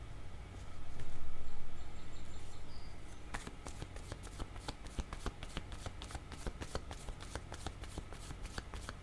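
Tarot cards being shuffled, a soft sliding rustle first, then a long run of rapid, close, crisp riffling flicks.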